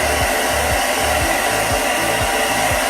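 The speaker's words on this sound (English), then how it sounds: "I'm just going to blow dry it with cool air." Hair dryer running on a cool setting, a loud, steady close-up roar of rushing air with a faint rhythmic low pulsing underneath, no talking.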